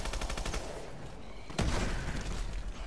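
PDW gunfire in Advanced Warfare exo zombies, a rapid burst of game shots followed by a sharper blast, close and loud with no talk.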